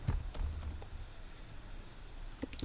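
Code typed on a computer keyboard in the Google Earth Engine code editor: a quick cluster of light, close key clicks at the start, a quiet pause, then a few more taps near the end.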